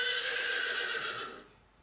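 A horse neighs in one drawn-out, shrill whinny that fades away over under two seconds, heard alone without talk.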